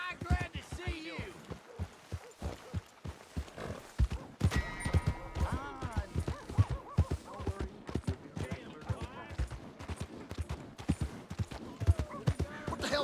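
Horse hooves in Red Dead Redemption 2 clip-clop in a steady rhythm with a few louder irregular thumps, close and moderately quiet, over a game soundscape.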